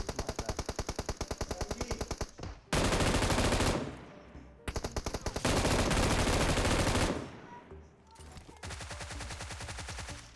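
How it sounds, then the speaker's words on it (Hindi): A Thompson SMG fires in PUBG Mobile: loud rapid bursts of automatic gunfire, with sharp rhythmic rattles broken by short pauses and heavier, continuous stretches of shooting. "थॉमसन वाली गन ने मतलब SMG ने इस बार कमाल कर दिया"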